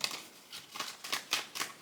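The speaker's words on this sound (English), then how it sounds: "Let me go ahead and shuffle because these cards are being weird." Tarot cards being shuffled by hand, heard as about six quiet, crisp riffling bursts in an uneven rhythm, close by and soft, with no talking.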